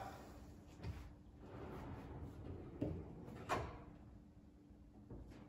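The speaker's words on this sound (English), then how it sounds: "Beautiful soft close." An IKEA kitchen drawer glides shut on its track and settles with a soft-close action, a few muted knocks and slides in a quiet room, with no talking.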